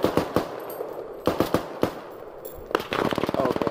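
Gunfire in the video game Squad: several sharp single shots spaced across the first half, then a rapid sustained burst of automatic fire near the end, fairly close and loud.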